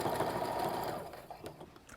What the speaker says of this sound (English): I'm just going to sew these together along the long side using a 1/4 inch stitch